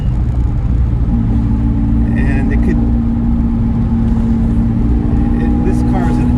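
A 1965 Jaguar XKE Series I 4.2 coupe, long undriven, on the move: a steady low engine drone and road rumble hold throughout, with a voice speaking briefly over it.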